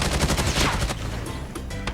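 Rapid automatic gunfire from a CR-56 AMAX rifle in Call of Duty Mobile rattles in a fast burst, then gives way to scattered shots and a ringing, explosive tail, loud and close.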